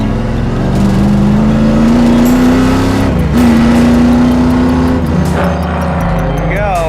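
A street-legal stock car's engine revs hard as it drifts and oversteers near a wall on a track, a loud, close, sustained roar whose pitch climbs, dips briefly, then climbs again.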